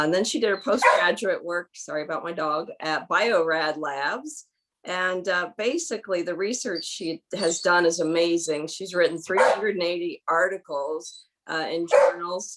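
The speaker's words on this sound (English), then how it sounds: "you don't have to listen to my golden retrievers" Golden retrievers bark and whine in the background of a home, repeatedly and fairly close, partly masked by a person talking steadily over them.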